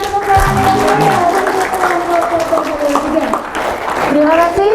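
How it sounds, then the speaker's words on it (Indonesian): Audience applause after a student project showcase presentation, a steady wash of clapping lasting several seconds while voices and music-like tones carry over it. "Berikan tepuk tangan."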